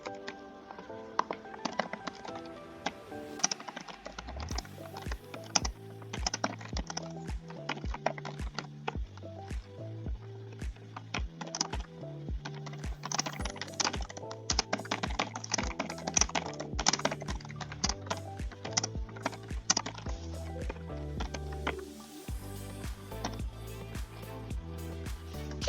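A computer keyboard is typed on in rapid, irregular bursts of crisp clicks and clacks, close and steady over a long stretch, with brief pauses between runs.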